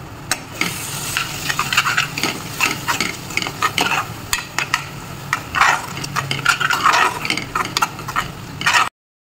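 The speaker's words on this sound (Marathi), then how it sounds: "मसाले पण मस्त फ्राय झालेले आहेत" Ground spices (coriander, chili powder, garam masala) frying in oil, a close, loud sizzle broken by repeated scraping and stirring strokes against the pan, with no voices.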